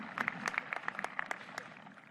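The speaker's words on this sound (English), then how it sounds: "If we give our administration a round of applause" Graduation audience clapping for the school administration at a Class of 2021 ceremony, a thin scatter of individual claps, sparse and moderately near, fading after two seconds with no voices.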